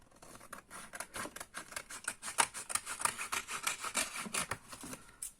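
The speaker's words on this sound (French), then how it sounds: "Et on découpe de l'autre côté." Paper being cut with scissors while trimming the flaps of a simple handmade album cover, a close, steady run of crisp snipping and rustling strokes with no talk.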